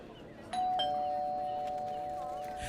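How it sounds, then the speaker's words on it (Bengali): A doorbell sound effect in a Bengali audio-drama murder mystery: two quick electronic chimes, then a steady ringing tone that holds and slowly fades, loud against a quiet background with no talking. "দরজায় কলিং বেল বাজাতেই"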